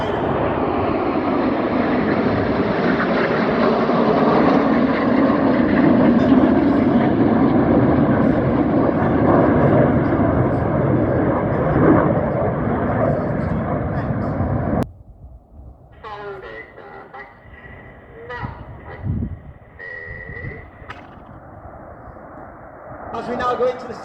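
Red Arrows display jets roar past at an airshow at Shuttleworth, a loud broad rush that cuts off sharply, followed by quieter crowd and ambient sounds with faint tones.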